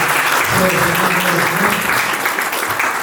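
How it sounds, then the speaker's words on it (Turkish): Applause rises from the audience at an association meeting in Istanbul, a steady wash of clapping with a voice briefly audible beneath it. "Onlara alkış istiyorum size."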